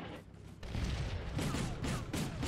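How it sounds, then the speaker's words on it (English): An M2 Bradley fighting vehicle area firing in the video game Combat Mission Black Sea, with dense rumbling gunfire and booms that swell and continue after a brief quieter start. "Requin's back Bradley shows himself and starts area firing,"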